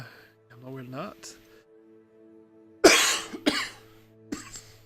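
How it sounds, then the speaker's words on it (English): Two or three harsh coughs close to the microphone, following some brief vocal sounds, with a quiet pause between. "This cold, this cough needs to go away."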